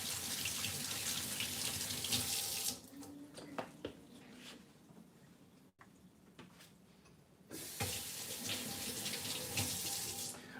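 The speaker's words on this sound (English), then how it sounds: "now I need to just rinse my hands off for a second" Hands rinsed under a running kitchen sink tap, with a steady broadband water rush that drops away for a few seconds in the middle and then resumes strongly, close and loud with no talk.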